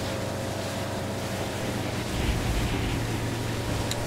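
A boat in the video game Far Cry 5 moves across open water with a continuous broadband rush of wind and splashing spray over a low engine drone, steady and loud, growing slightly heavier midway, with no voices.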